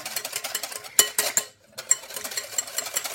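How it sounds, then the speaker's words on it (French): Strawberry mousse mixture being stirred vigorously in a bowl, a steady scraping, swishing run with a brief pause midway, close and fairly quiet, with no voices. "On essaie de mélanger le plus possible."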